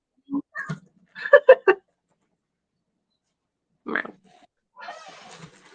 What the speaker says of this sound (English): He's a very mouthy cat.